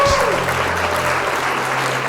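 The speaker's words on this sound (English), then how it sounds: "A big clap of it unto him." Church congregation claps together during a sermon, a loud, sustained burst of applause filling the hall, with a brief voice at the start.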